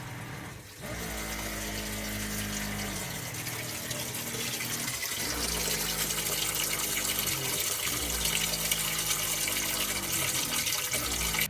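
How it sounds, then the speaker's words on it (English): A steady rush of water pouring into a caravan washing machine, driven by a humming pump from a tank, continuous and fairly loud with rhythmic low pulsing throughout. "So pump is going. Water filling."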